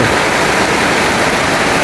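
Heavy rain pours down outside a house, with water streaming off like a small waterfall, a steady, loud, dense rushing wash with no gaps and no talk.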